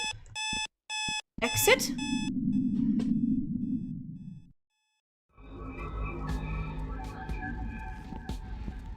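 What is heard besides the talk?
alarm noise in the video game Sally Face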